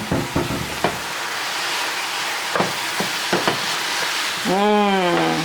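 Keto mash with garlic and smoked paprika sizzles in a pan, a constant close frying hiss punctuated by sharp scrapes and taps of a utensil, with a brief rising tonal whine at the end.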